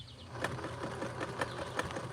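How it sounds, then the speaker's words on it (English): Sewing machine stitching a ripped knee hole in stiff denim jeans, short bursts of rapid mechanical needle clatter with brief pauses, close and moderately loud. "Let's see if we can sew this on."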